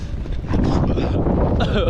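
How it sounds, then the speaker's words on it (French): Strong wind buffeting the microphone during a motorcycle road trip toward the Cantal, a loud, continuous low rumble with gusting surges that swell from about halfway and stay heavy to the end. "il y a trop de vent"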